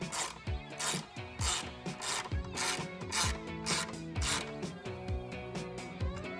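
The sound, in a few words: tightening an Allen bolt with a 4mm Allen socket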